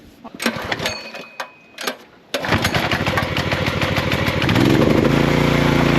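An old engine cranks with a few sputtering bursts, then catches and runs with a steady rapid chugging that grows louder and rougher, close and alone.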